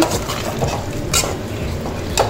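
A spoon scrapes and stirs tomato gravy with salt inside a pot, with occasional sharp clinks against the metal, steady and close.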